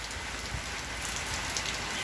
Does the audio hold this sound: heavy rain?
yes